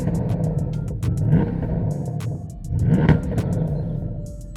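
Porsche Panamera Turbo S engine revving in two swells, a deep rumbling rise and fall near the car, loud and steady with no voices.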